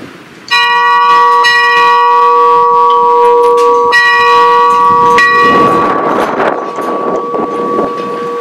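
A church bell is rung during a bell blessing ceremony, sounding several loud, clear strikes whose long ringing tones sustain and overlap, with wind rumble against the microphone near the end.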